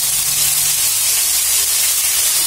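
Spice paste hitting hot oil with bay leaf, red chilli and asafoetida, a loud, dense, steady hiss and sizzle filling the whole moment up close, with no talking.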